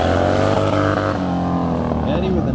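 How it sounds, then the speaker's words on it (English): A motorcycle makes a hard drag-race-style launch at a drifter cross race in a Tennessee stadium, its engine revving loud and close with a rising, sweeping whine, while an announcer talks over it. "Eddie with a nice drag race style launch, keeps the bike hooked up"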